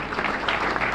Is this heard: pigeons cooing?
no